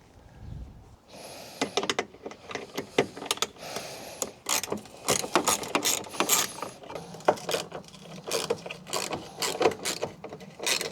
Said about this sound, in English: Next job is to take, I think it's probably an 8mm fitting there, out.